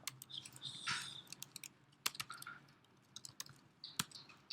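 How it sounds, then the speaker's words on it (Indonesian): Typing code on a computer keyboard while writing a Dart loop program: a quiet, steady run of soft key clicks with occasional sharper taps, close by and with no talking. "ntar saya ketik dulu ya biar gampang nanti jelasin"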